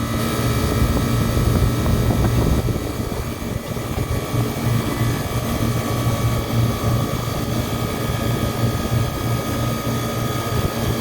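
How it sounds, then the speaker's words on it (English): A walk-in freezer's condenser fan motor starts and runs, giving a steady loud mechanical drone with a low hum and tonal whine that holds evenly throughout, with no talking. "when I start up this condenser fan motor"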